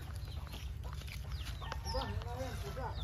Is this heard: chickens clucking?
yes